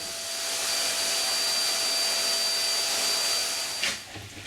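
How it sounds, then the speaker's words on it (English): A vacuum cleaner draws sanding dust off a kayak hull being prepared for polyurethane varnish, a steady, loud broadband roar with a thin whine that holds for about four seconds before cutting off near the end. "The dust will make unevenness appear in the coat, thus careful vacuuming is necessary"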